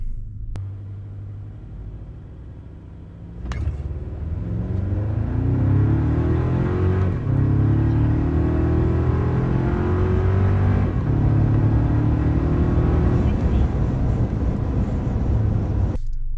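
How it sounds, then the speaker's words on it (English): A 4th gen Toyota Tacoma in sport mode launches from idle into a 0 to 60 run, the engine note jumping after a few seconds and then droning loudly as it climbs through gears, heard from inside the cab. "So I'm going to set a baseline 0 to 60 before the tune, and then we're going to do it after"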